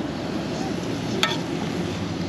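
Steady, close crackling sizzle of peeled, deveined medium-sized shrimp frying in butter, a continuous hiss with one brief sharper pop partway through.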